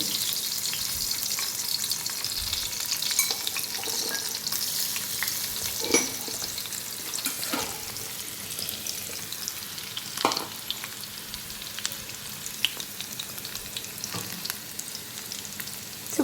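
Steady close sizzling of garlic frying in hot oil on a tava griddle, with occasional clinks and scrapes of stirring.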